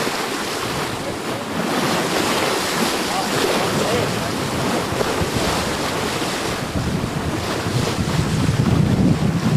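Sailing yacht racing across the open ocean in southeast trade winds at around seven or eight knots, with loud, constant wind buffeting the microphone over rushing waves and hull wash.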